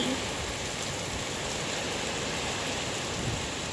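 Steady, dense rain falls continuously outdoors, a loud and even wash of noise with no breaks and no voices.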